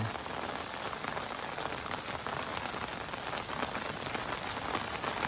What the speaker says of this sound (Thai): ฝนตกใส่มันเท่านั้น